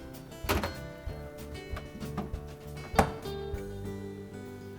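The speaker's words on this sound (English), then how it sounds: "We can then close the doors." Whirlpool refrigerator doors swing shut with two soft, muffled thunks a few seconds apart, heard close over a steady low appliance hum.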